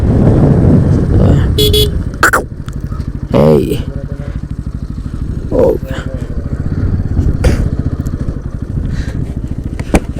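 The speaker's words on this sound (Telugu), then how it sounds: "ఇక్కడ బైక్ పోతుంది" A motorcycle riding on a road, with engine drone up close, several short horn toots and passing traffic, while a voice talks over it at times.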